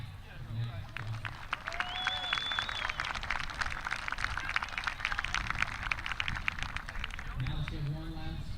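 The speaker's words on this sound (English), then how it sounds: "let's give one last round of applause to all of our seniors here on Senior Day." Crowd applause at a 2017 college softball Senior Day game, North Greenville vs. Limestone: a faint, sustained mass of clapping heard from a distance, with a public-address voice speaking briefly near the start and end.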